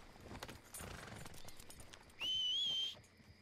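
Horse hooves clip-clop steadily in Red Dead Redemption 2, a soft, close rhythmic clatter through most of the moment, briefly joined near the end by a high, thin whistle.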